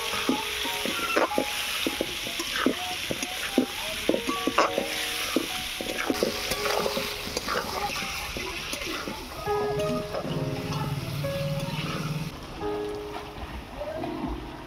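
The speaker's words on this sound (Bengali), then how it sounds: "এবারে আলুটাকে ভালো করে কষিয়ে নেব।" Potatoes with coriander powder, chilli powder and peas being stirred and fried in a pan for a fish curry, with steady sizzling and repeated scraping clinks from a utensil throughout, up close.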